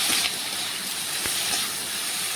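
Mixed vegetables for a Bengali five-vegetable curry are stirred and dry-fried in a wok, giving a steady, close sizzling hiss with faint scraping throughout.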